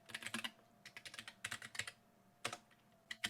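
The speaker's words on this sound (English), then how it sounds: "Let's just type some random English letters into this file." Random letters typed into a new text file on a computer keyboard: bursts of quick, close keystroke clicks in uneven clusters with short pauses between them, no voices.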